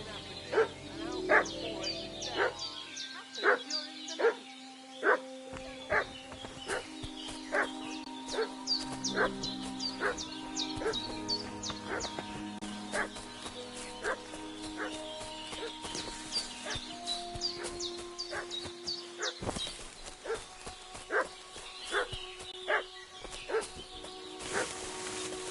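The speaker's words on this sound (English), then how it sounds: "What's that dog making such a fuss about?" A dog in the medieval video game Kingdom Come barks and whimpers repeatedly, with a steady run of sharp yips and barks over game music and ambience, mostly alone with faint background noise.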